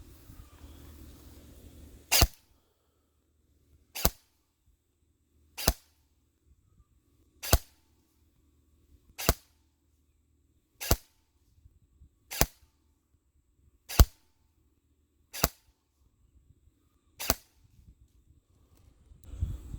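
An EMG Helios airsoft gun with a 7.4 LiPo battery fires single shots during a fire rate test, ten sharp, evenly spaced cracks about two seconds apart, close and loud against near silence.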